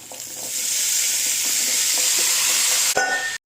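Chopped bottle gourd hits a hot pan and sets off a loud, steady frying hiss that holds for about three seconds. A clatter from a utensil comes near the end before the sound cuts off abruptly.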